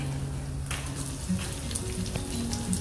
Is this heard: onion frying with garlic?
yes